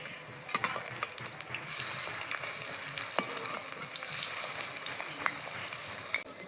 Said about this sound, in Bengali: আমি উল্টে পাল্টে ভেজে নেব